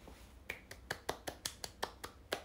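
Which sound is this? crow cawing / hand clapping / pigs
hand clapping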